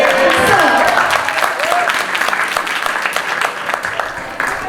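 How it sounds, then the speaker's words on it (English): Dense audience applause at a graduation celebration, loud, sustained clapping filling the room with crowd noise, a few tonal sweeps and voices mixed in near the start. "so I'm going to applaud me."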